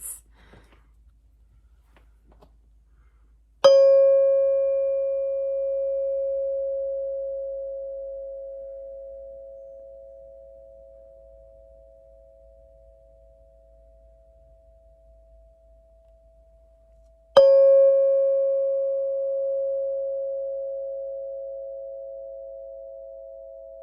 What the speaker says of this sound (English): I'm going to ring the tone bell